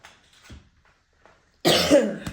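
A person's cough, a short harsh burst near the end following quieter breathy throat sounds, close and fairly loud.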